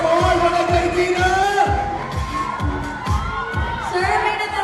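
A crowd at a mall show claps and cheers loudly and continuously, with rhythmic clapping, shouts and whoops forming a dense, lively roar.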